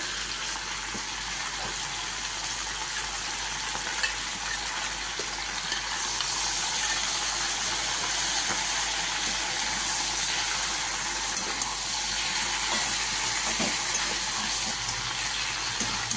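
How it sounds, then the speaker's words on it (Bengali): Ginger and radhuni paste sautés in a pan for shukto, producing a steady, close, hissing sizzle that holds evenly throughout with faint occasional clinks and no speech. "আদা আর রাঁধুনি বাটা দিয়ে ভালো করে কষে নিচ্ছি।"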